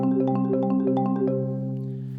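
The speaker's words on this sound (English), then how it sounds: "if I was to do a common ripple roll, 1, 2, 3, 4, that would sound like this." Four mallets play a common ripple roll on a keyboard percussion instrument, a rapid cascade of struck notes in rolling groups that ring out and fade at the end, close and clear with no talk.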